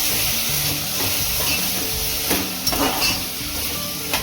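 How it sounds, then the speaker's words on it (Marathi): Chicken pieces frying in a masala-coated pan hiss and sizzle steadily up close, with a few scraping stirs and small spatters toward the end, without any talking. "चिकन टाकून आता चांगलं मिक्स करून घेऊया."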